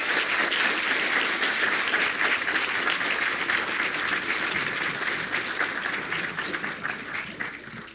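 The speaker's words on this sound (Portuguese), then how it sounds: "peço uma salva de palmas" An audience at a university opening lecture applauds to welcome the speaker. The dense, sustained clapping fills the room and tapers slightly toward the end.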